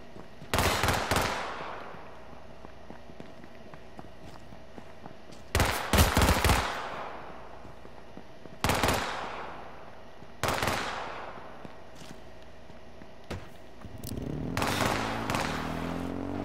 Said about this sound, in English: Guns even sound better, more realistic.